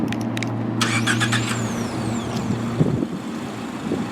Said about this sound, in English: you can turn the car on with the remote before you get in it and have the air conditioning cool the car off